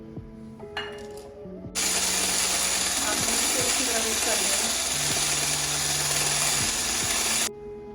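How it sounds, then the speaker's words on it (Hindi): Cream with strawberry flavour and food colour is whipped, starting with brief clattering and then a loud, steady mechanical whir that runs for about six seconds before cutting off abruptly. "अब इसको हम अच्छे तरीके से व्हिप करेंगे।"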